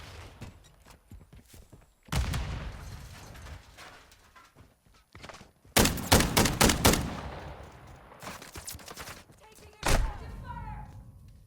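Bursts of SMG gunfire in Call of Duty MWII, a loud burst near the start, a rapid multi-shot volley in the middle and a single sharp blast later, amid game noise and a voice talking.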